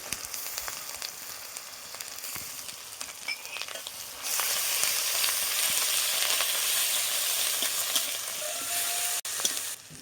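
Garlic paste goes into hot oil with whole spices and lightly fried onion in a pan on a clay stove, and a steady crackling sizzle jumps louder partway through, then continues as a close, dense hiss.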